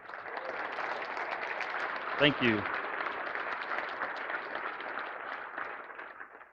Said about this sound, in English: So I would like a round of applause for them.